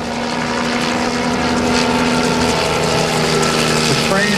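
A Bell 47 helicopter with a welded steel lattice frame and wooden main rotor blades runs at an air-show demonstration, making a loud, steady, close engine-and-rotor drone with mechanical rattling throughout.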